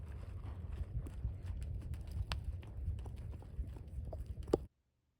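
Hooves of a green horse clip-clop steadily in a soft, rapid rhythm while ridden through random turns around an arena, fairly close and continuous before stopping abruptly.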